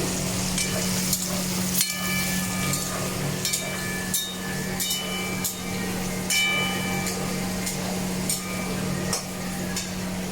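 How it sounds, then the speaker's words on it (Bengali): Paneer cubes fry in a pan for paneer butter masala, giving a continuous hissing sizzle over a low steady hum, broken by occasional sharp taps and clinks from a utensil. "পনিরটাকে ভালো করে ভেজে নিচ্ছি"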